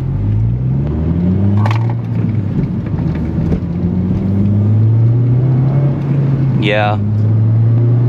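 An eighth-generation Honda Civic Si with a full race exhaust revs loudly, the pitch rising and falling with a deep, throaty rasp, and a voice speaks briefly.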